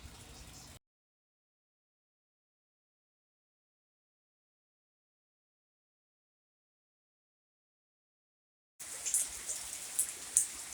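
Rain falling in the Philippines, heard from under a ledge: a dense, steady patter of drops, fairly close, in two short stretches split by a long silent gap, with no talk.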